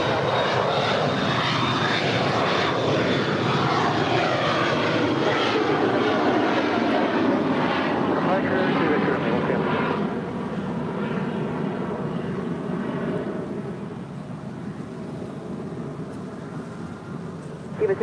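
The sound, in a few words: Cessna Citation jet taking off at LAX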